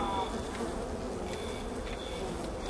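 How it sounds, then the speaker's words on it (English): Swarm of bees buzzing in the virtual reality game I Expect You To Die, a faint, steady droning hum throughout with a little background noise. "What, bees?"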